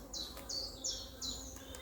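Honeybees from a colony started from this year's swarm buzz at an open hive during an inspection, a steady low hum under repeated brief high chirps, with no talking.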